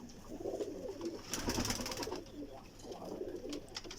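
Soft, low pigeon cooing in repeated rounded calls, fairly faint, with some rustling and scuffing noises nearby and no talking.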